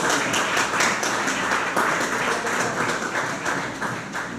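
An audience applauds at an indoor evening talk on independent filmmakers, a dense, steady burst of many hands clapping that gradually fades toward the end.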